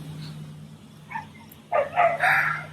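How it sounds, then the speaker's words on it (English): A pet dog barks outdoors on a quiet evening. A couple of short, sharp barks come near the end over a low steady hum. "my dog is going crazy because my dog wants to come for a walk with me"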